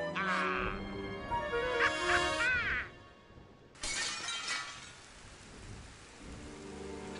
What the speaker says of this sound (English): Mooncalf jumped screaming through the stained glass window